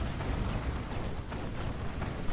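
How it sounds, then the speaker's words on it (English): Heavy cannon fire from a bunker in a war video game, a dense rumbling barrage of booms and blasts blending into continuous loud roar with no clear gaps. "It's like a crack cannon or something, rather."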